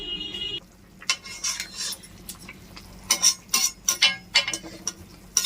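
Drumsticks fry in hot oil with a mustard seed tempering, with stirring and sharp clinks of a utensil against the pan in quick bursts over a low sizzle.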